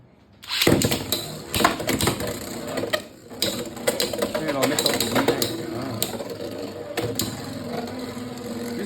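A Beyblade X Wizardrod spinning top whirs and scrapes in a plastic stadium, with rapid mechanical clicking and ratcheting rattles, sharp knocks as it strikes the walls, and a voice talking over it.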